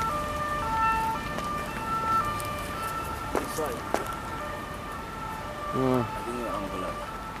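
An ambulance siren wails in the distance, its rising and falling tones sweeping past over steady outdoor background noise, with a brief nearby voice toward the end.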